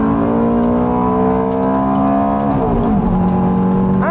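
A Ferrari F430 engine roars loud and close, holding a high rev before dropping at a gear change and then climbing again as it accelerates.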